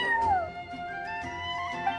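Charcoal, a cat in the video game Genshin Impact, gives a single close meow with a falling pitch, followed by a softer trailing purr-like tone, with no speech.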